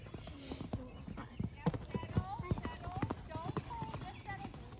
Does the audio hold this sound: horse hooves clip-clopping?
yes